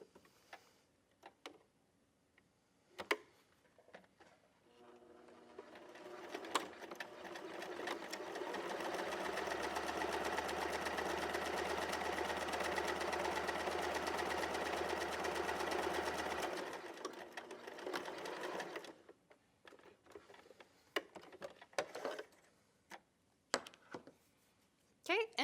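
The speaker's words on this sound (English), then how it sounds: "And then all you do is stitch your seam." A sewing machine stitches a quarter-inch seam to finish fabric edges, running steadily for about ten seconds with a low motor hum, framed by brief handling clicks and a little talk before and after.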